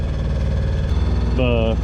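Sailboat's inboard engine running while motoring, a steady low throbbing drone up close, with a brief tonal whine near the end.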